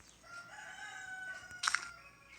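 A chicken in the video game Minecraft gives a thin, clucking call over quiet background, followed by a couple of sharper, louder clucks near the end.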